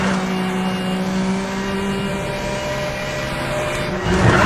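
Race car braking hard during a canyon race in Need for Speed: The Run: a steady loud engine drone with tire squeal and shifting whine, rising in intensity toward the end.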